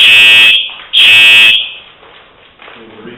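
A building fire alarm goes off during a commission meeting, giving two loud, piercing buzzing blasts in quick succession. Quieter room noise and faint murmuring follow.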